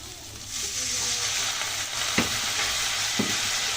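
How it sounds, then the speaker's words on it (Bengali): Ground spices sizzle steadily in a hot pan for a prawn malai curry, with a couple of soft scraping stirs partway through; no talking. "গুঁড়ো মশলাটাকে হালকা করে একটু কষিয়ে নেব"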